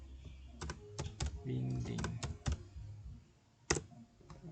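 Keystrokes on a computer keyboard come in short irregular bursts and single clicks, close and fairly quiet, with a low hum and a brief murmur of background sound mixed in.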